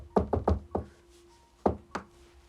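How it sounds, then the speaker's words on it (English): Knocking on a wall comes in two groups, four quick raps then a pause and two more, each hit a dull close thud with a faint steady hum underneath. "There's the kind of knocking on the wall."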